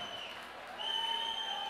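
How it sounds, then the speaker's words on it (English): Steady applause from a concert crowd at a psychobilly gig, a continuous wash of clapping that swells partway through. "Give yourselves a round of applause"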